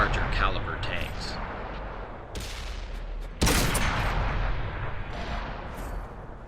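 Heavy tank cannon fire in the World of Tanks console game, with loud sharp booming shots and rumbling battle noise at close range, one especially strong blast partway through.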